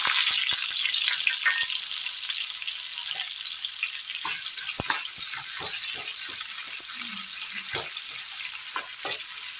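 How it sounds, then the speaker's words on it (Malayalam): Sliced onions sauté in hot oil over spluttered mustard seeds in a pan for Kerala mango mezhukkupuratti, giving a continuous close, bright sizzle with scattered crackles and pops throughout. "സബോള നല്ലതുപോലെ ഒന്ന് വഴറ്റിയെടുക്കാം"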